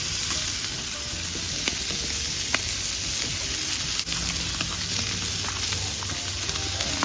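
Smash burgers sizzling on a hot grill, a loud steady hiss and crackle with scattered pops and a high whine running throughout, no talk.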